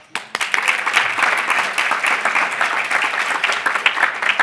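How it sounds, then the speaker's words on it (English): Audience applause bursts out at a conference lightning talk, starting suddenly and continuing as loud, dense clapping from a large crowd for a few seconds. "Big clap"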